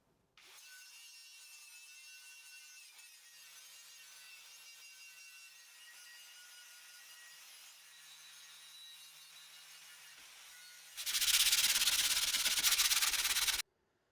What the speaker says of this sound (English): As you've seen there, I've done most of it with the wire wheel